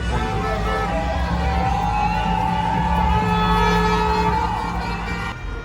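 A crowd of protesters fills the street with a dense, steady wash of chanting and voices, loud and close, with a sustained tonal chant running through the noise.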